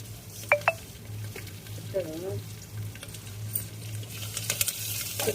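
Spices with curry leaves and asafoetida sizzle in a clay pot for sambar tempering, a low steady frying hiss under sharp clinks of a utensil against the pot and light stirring scrapes.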